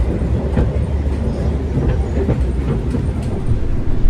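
The Parahyangan executive-class passenger train from Bandung to Jakarta rolls along the rails with a steady loud rumble and rhythmic clicks and clacks of the wheels over the track joints, heard from inside.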